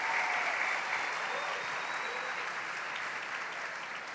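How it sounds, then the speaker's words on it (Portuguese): A church congregation applauds in a sustained burst of dense, even clapping from many hands, steady and fairly loud throughout and slowly easing off toward the end. "Dê para Jesus uma forte salva de palmas"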